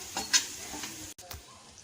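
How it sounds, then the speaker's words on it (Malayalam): Slices of ripe nendran plantain sizzle in a hot pan, a soft, steady frying hiss broken by a few sharp stirring clicks and one brief dropout, with no one speaking. "അത് കാരണം ആദ്യം നേന്ത്രപ്പഴം വാട്ടിയെടുക്കുകയാണ്."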